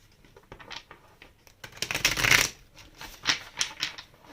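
Tarot cards drawn from a deck during a reading, heard as a run of close, dry flicking and slapping card sounds with a denser burst in the middle and a few sharp taps near the end, with no voice.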